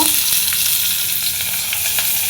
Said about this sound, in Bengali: তেলের মধ্যে জিরে দিয়ে দিলাম ফোড়নে আর দিয়ে দিচ্ছি কাঁচামরিচ